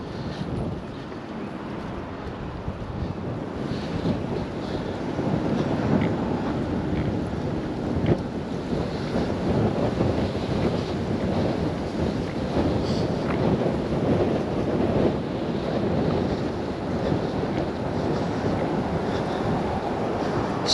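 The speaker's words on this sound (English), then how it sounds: "Still walking right into the wind. Getting pretty gusty." Strong gusty wind buffeting a microphone on an outdoor walk, a constant loud roaring rumble that swells and eases in gusts for the whole stretch, with no talking.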